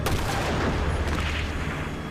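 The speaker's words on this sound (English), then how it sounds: "he shoots him with his super hand cannon main python gun" A Colt Python revolver fired in a TV drama: a loud, boomy gunshot with a rough, noisy tail that keeps ringing for about two seconds, with no talk.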